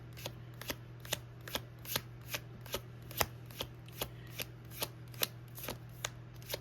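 Tarot cards are shuffled in a steady run of crisp, quiet riffs, around fifteen even flicks over a soft constant hum, with no talking.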